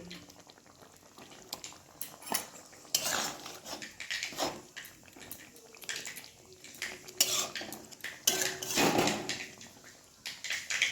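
Fish is stirred into bubbling curry gravy in a pot, giving soft simmering bubbles broken by irregular metal clinks and scrapes of the spoon against the pot.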